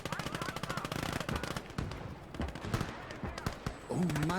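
Rapid gunfire and heavy booms from the Gates of Hell battle game as the Bison 150mm assault howitzer fires toward Soviet positions, a dense, loud stream of shots with brief pauses and a growling engine rumble near the end.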